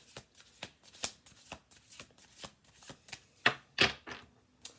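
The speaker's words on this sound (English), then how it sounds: "I'm going to shuffle through 2 more times" Tarot cards shuffled by hand in quick, uneven bursts of papery riffling and soft slaps, close and fairly quiet, with a couple of sharper flicks near the end.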